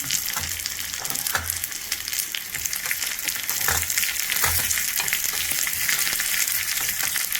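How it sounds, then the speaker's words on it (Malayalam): Shallots frying in hot oil with chili and curry leaves give a steady, dense sizzle and crackle that runs unbroken and close, with a few sharper pops and soft low thumps scattered through it. "ചെറിയുള്ളി മൂത്ത് കഴിയുമ്പോൾ മുളകും കറിവേപ്പിലയും കൂടെ ഇട്ട് കൊടുക്കാം"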